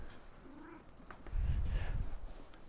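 Myra the cat in Final Fantasy XIV, a video game: a faint, short meow early on, then a low, close rumbling purr that swells and carries through to the end, with no talking.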